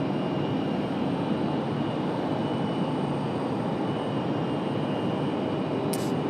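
Airliner taking off from runway 23 right at Raleigh-Durham International, a steady, loud broadband jet roar held throughout with no break and no talk over it.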